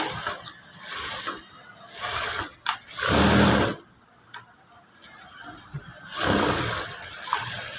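A sewing machine stitching the lining of a boat neck blouse runs in several loud bursts of rapid mechanical ticking, separated by short pauses and handling noises.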